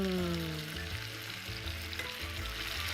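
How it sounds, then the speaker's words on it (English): Makhani sauce poured into a hot pan over cooked chicken wings sizzles loudly and close up, a dense, bubbling fry with no one speaking. "And now we are going to add the makhani. Sauce directly to the pan."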